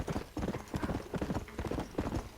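Horse hooves gallop fast in the Red Dead Redemption video game, a loud, rapid rolling rhythm of hoofbeats repeating in close bursts with no speech.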